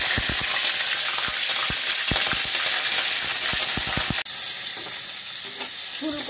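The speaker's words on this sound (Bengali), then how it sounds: "আমি এবার লবণ দিয়ে মাখিয়ে রাখা ফুলকপিটা দিয়ে দেব।" Salted cauliflower pieces sizzle loudly in a pan of oil and ghee, with rapid crackling and irregular sharp pops over a dense hiss that drops abruptly and settles into a quieter, steadier fry.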